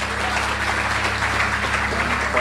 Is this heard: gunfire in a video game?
no